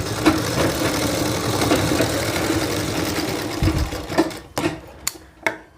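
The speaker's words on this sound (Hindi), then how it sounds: "अब यहाँ पर हम सिलाई लगा देते हैं" A sewing machine runs in a fast, loud, steady whir as it stitches a shirt collar, then slows into a few separate thumps and clicks as the stitching stops.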